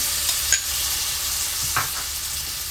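Tomato sautéing in a pan for beef kofta, a steady soft sizzle and fry hiss running throughout with a couple of faint stirring clicks, close and alone without talk.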